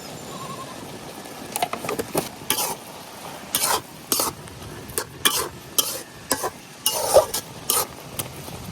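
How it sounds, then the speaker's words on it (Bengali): A spoon scrapes and stirs half-boiled lentils with spices in a pan in a steady series of short, rhythmic strokes over a soft sizzle. "এখন এটা নাড়াইয়া ছাড়াইয়া একদম শুকনা শুকনা করে নিলাম"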